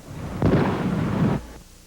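An M1000 firecracker detonates with a deep boom that swells into roughly a second of heavy, thunder-like rumble before cutting off, leaving quiet behind.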